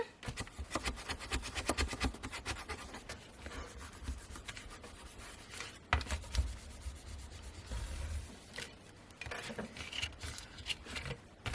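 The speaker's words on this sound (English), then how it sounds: "And then burnish that down." Paper is burnished down by hand while a dos-à-dos junk journal album is assembled, giving faint, close rubbing and scraping strokes in irregular bursts with short pauses, with no speech.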